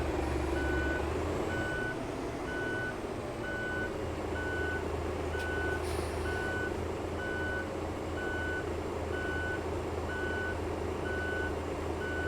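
A bus reversing into a parking spot in Euro Truck Simulator 2, with a steady evenly spaced reversing beep repeating throughout over a constant low engine rumble, and one brief hiss of air partway through.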